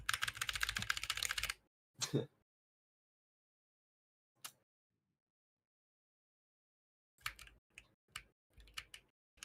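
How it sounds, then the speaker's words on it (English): A loud computer keyboard clatters in rapid close bursts of typing, broken by silent gaps and a few isolated clicks. "I have a loud ass keyboard, bro."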